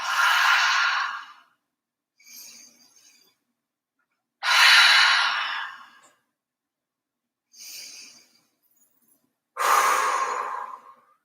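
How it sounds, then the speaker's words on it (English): Deep clearing breaths taken during a yoga session: three long, loud airy exhales alternating with shorter, quieter inhales, evenly spaced with silent pauses between, close to the microphone. "Take a few clearing breaths."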